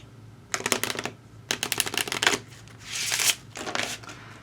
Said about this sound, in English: You can hear me shuffle.